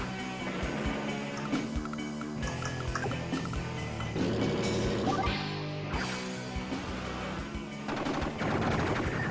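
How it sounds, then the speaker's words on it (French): Dense, continuous Advance Wars: Dual Strike combat noise with rapid gunfire, booming bombardment blasts and crashes layered over each other, loud throughout. "On commence à bombarder."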